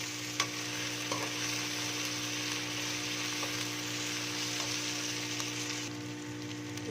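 Sliced onions and garlic paste sizzling steadily in hot oil in a pan for masala okra, a constant frying hiss with occasional light stirring clicks, close and continuous throughout.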